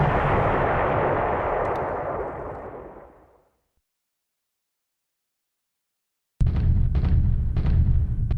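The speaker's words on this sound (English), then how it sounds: "a bombardment that hits Tosa" In a naval war game, a bombardment strikes the ship Tosa: a loud, dense rumbling barrage fades out into silence, then a second burst of booming impacts erupts abruptly.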